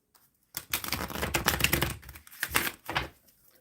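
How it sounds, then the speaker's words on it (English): A deck of tarot cards being shuffled by hand, giving dense, close riffling and flapping bursts in two main runs with a short pause between, loud and without talk. "I'm shuffling for the overall energy."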